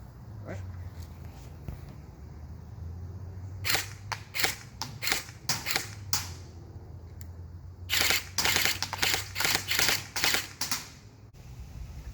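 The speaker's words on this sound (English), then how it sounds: "I'm going to do some semi-auto, and then I'll do an automatic first." A Lancer Tactical LT-22B AEG airsoft rifle fires on semi-auto, sharp close clicks in spaced single shots, then a quicker cluster of shots, over a low background hum.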